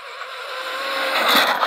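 A Traxxas XO1 RC car runs fast on a 6S setup, its electric motor whining high and rising, with a brief squeal of tires as it loses traction on the way back down the road.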